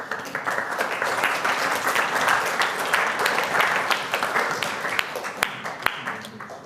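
Sustained audience applause following a political keynote speech by a Leader of the House of Commons, a dense, loud hall full of clapping with a few sharp individual claps standing out.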